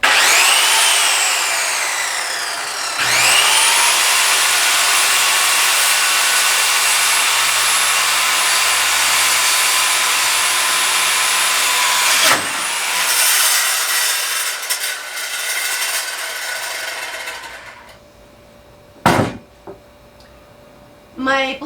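A loud power saw whines through wood for a coffee table, cutting steadily for about nine seconds before the motor winds down, followed by rattling, a couple of sharp knocks and quieter handling noises.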